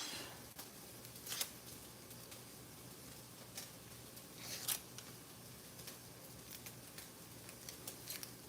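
A knife halves fresh onions on a cutting board in a quiet kitchen, making a few sparse, sharp clicks and taps over faint background hiss, with no speech.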